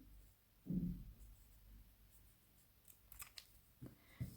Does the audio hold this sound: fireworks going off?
no